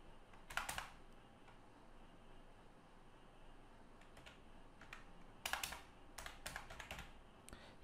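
Faint, close computer keyboard typing as a ration card number is entered into a scholarship form, with a short burst of keystrokes early and another cluster of quick taps near the end over quiet room hiss.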